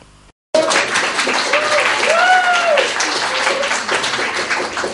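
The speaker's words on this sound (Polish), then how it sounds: "To są oklaski oczywiście dla Betel, dla wspólnoty, dla ruchu Betel." Applause from a crowd at a jubilee celebration of a Catholic community movement in a cultural centre hall, sustained and full after a brief quiet start, with a short whistle and voices rising through it.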